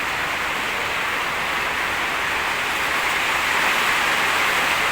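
Rain falls outside in a dense, steady hiss, continuous and fairly loud for the whole stretch, with no voices over it.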